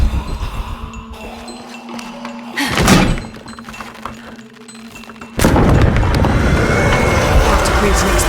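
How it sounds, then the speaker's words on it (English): An explosion in the game Shadow of the Tomb Raider sets off a sudden loud boom that drops into dense, rumbling noise that keeps going, after a quieter stretch of ambient game sound. "Creates an explosion."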